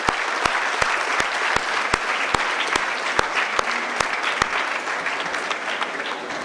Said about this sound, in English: Kindly give a big applause welcoming Dr.